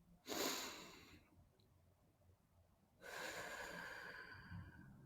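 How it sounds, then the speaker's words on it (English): Two deep breaths, a strong inhale near the start and a long exhale later, airy and close, faint overall, with quiet pauses between and no talking. "let's inhale and exhale"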